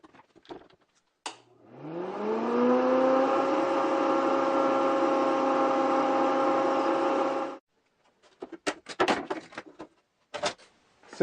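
A homemade blower fitted with a forward-facing impeller spins up with a rising whine, holds a steady harmonic drone for about six seconds, then cuts off, followed by scattered handling clatter.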